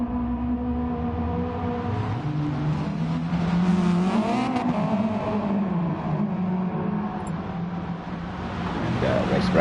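Race cars at round 10 of the World Rallycross Championship second race, a reverse grid start, with several engines droning and revving together in a loud, steady roar, rising in pitch as they pull away.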